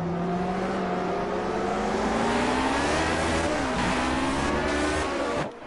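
Cosworth-engined race cars roar into a corner, several engines loud and close with rising and falling revving tones and a brief skid near the end, no talk over them.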